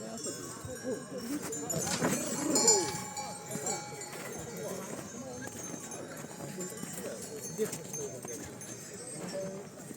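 Horses' hooves clip-clop at a crowded horse show high in the mountains of a Ukrainian village, the irregular hoofbeats mixed into a constant murmur of crowd voices and livestock noise.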